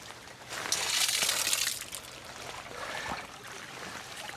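Water pours and splashes out of the boots of a cheap drysuit after a swim in 39°F water, in a couple of gushing bursts with trickling between them, fairly close but soft.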